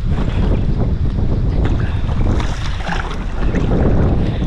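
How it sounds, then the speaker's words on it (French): Strong gusting wind picking up while pike fishing, roaring across the microphone, loud and continuous with rumbling buffeting and faint splashing water underneath. "vous voyez que le vent est en train de se lever en plus"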